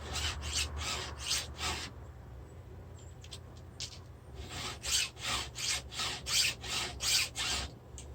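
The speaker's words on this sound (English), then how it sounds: "Not filing on the backstroke." A hand file sharpens a ripping chainsaw chain in short, rhythmic rasping strokes close by, with one bunch of quick strokes, a brief pause with lighter scrapes, then a run of even, steady strokes.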